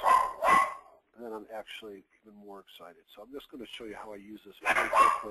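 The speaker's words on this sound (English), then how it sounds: "the dogs are starting to get rambunctious" Several dogs bark in short loud bursts at the start and again near the end, with a man's speech running steadily between them.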